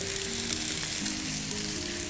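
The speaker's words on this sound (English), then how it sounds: "You can hear it sizzling." Steady, close sizzling of fish frying in hot oil, a constant crackling hiss with no talking.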